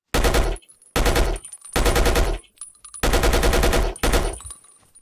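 Machine gun fire in the video game Battlefield Yugoslavia: five loud, close bursts of rapid automatic shots, each about half a second long, separated by short pauses with faint echoing tails.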